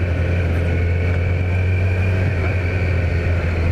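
A 2018 Kawasaki Z900 fitted with an Akrapovic exhaust rides along with a steady, fairly quiet engine drone and a strong low hum, continuous and even throughout without any talking.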